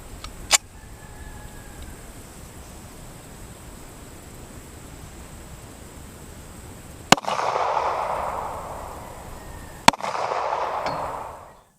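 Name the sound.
1911 pistol firing .45 ACP hollow point into polyurea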